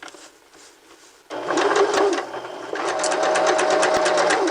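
A sewing machine stitches pinned fabric. Quiet handling gives way to a loud, fast, steady mechanical whirring with rhythmic needle clatter, close up, while a voice talks faintly.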